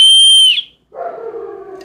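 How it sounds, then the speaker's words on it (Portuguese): A loud, high-pitched emergency rescue whistle blown in one piercing sustained blast that cuts off sharply, followed after a brief silence by a lower, wavering tone, close and alone without speech. "Também um apito de socorro, de emergência, um apito agudo,"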